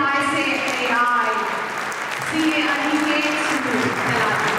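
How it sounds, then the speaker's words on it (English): Applause from an audience at an ICAI branch gathering greets the institute's president, a steady wash of clapping with a voice speaking over it throughout. "A big round of applause for the man himself, President ICAI"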